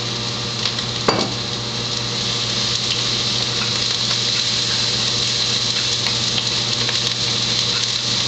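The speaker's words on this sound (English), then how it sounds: "I'm going to deglaze the pan with a little" Onions and garlic sizzle in a pan as bourbon deglazes it, a steady, fairly loud hiss and crackle with a brief splash near the start and a low continuous hum underneath.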